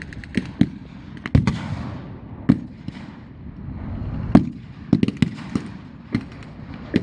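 Gunfire from a German half-track at an outdoor military battle reenactment: a string of sharp, loud blank shots at irregular intervals, some in quick pairs, over a low outdoor rumble with no talk.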